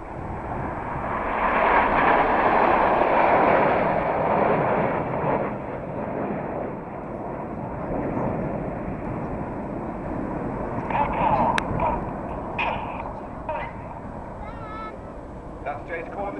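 Red Arrows BAE Hawk jets flying the Diamond Bend at the Cosford Airshow, a loud sustained broadband jet roar that swells early and then holds steady, with a commentator talking over it.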